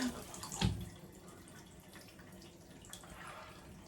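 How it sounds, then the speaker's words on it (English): Cold water runs steadily from a tap as tie-dyed clothes are rinsed, a continuous splashing hiss with small drips and sloshes over about four seconds. "I think I'm gonna rinse these in cold water because that's what it says."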